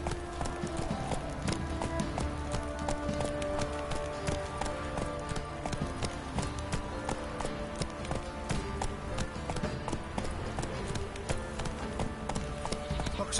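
Roach the horse gallops in The Witcher 3, a continuous rapid clip-clop of hooves running throughout, close and steady, with game music and ambience layered underneath.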